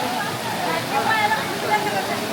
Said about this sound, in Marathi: आता पाऊस कमी असल्यामुळे पाण्याचा फोर्स आहे तो कमी आहे